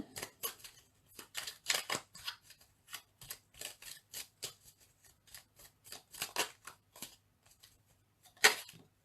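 Angel oracle cards are shuffled and drawn by hand in short, quiet bursts of papery riffling and sliding, some pauses between them, close up and with no talking.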